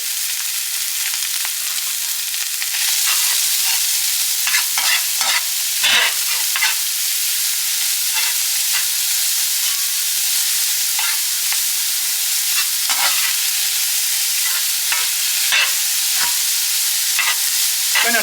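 Shrimp, onions, garlic and Carolina Smokies cook in an oiled pan with a loud, steady sizzle that hardly wavers, dotted throughout by soft clicks and scrapes of stirring, close up and with no voices.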